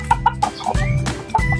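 Pet hens clucking close by, a run of short repeated clucks and throaty calls with a brief pause midway, no voices.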